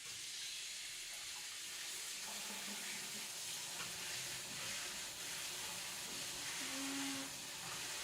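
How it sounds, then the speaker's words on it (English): Tap water runs steadily into a kitchen sink while celery is rinsed for a rabbit stew, a soft continuous hiss and splash at close range with no talking. "Oh, I have to rinse the celery."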